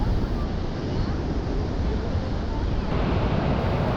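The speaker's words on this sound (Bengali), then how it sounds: "দেখলাম এই বিচে ঢেউগুলো শান্তভাবে বালিয়াড়িতে আছড়ে পড়ছে।" Calm sea waves wash onto the sand at Henry Island beach near Bakkhali, a loud, constant roar heavily mixed with wind buffeting the microphone.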